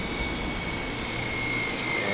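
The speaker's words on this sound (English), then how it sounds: "And just the Quark, such a nice little helicopter." A Hirobo Quark RC model helicopter flies low circuits outdoors on a windy day, its steady high-pitched motor and rotor whine holding constant and fairly loud, alone without voices.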